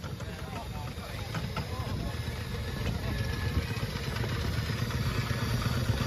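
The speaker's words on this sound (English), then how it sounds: "The 4-inch scale Fowler A5 general purpose, named Big Dad" A 4-inch scale Fowler A5 general purpose miniature steam traction engine named Big Dad running at a steam rally, a steady mechanical chuffing and clatter with a commentator speaking over it on a loudspeaker.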